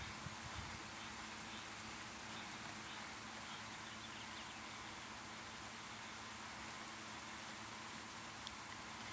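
Steady rain falls outdoors, a faint even hiss of drops that continues unbroken with a low background rumble and no speech.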